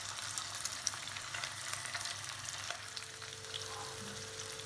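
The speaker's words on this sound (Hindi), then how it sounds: "इसको हम दूसरे साइड भी फ्राई कर लेंगे" Fish frying in a pan, cooking on its second side for a masala fish curry, makes a soft, steady sizzle with light crackles, fairly faint and uninterrupted by speech.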